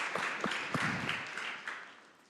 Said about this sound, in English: A big round of applause for Claudina.